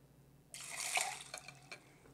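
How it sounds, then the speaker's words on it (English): Orange juice pours into a glass for a mocktail, a brief soft liquid splash and trickle lasting about a second, close and quiet, then fading into a few small drips. "Then you pour in the 2 ounces of orange juice."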